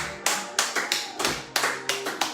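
A church congregation clapping together in a quick, uneven rhythm, about eight sharp hand claps close and loud, with no voices over them.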